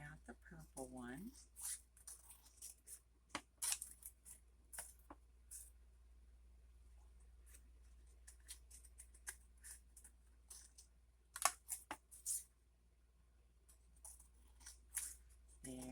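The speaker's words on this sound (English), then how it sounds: "then we'll cut out the purple one." Scissors snip through manila folder paper in scattered short cuts and crisp paper rustles, close and quiet, with long silent gaps between bursts and some soft handling noise.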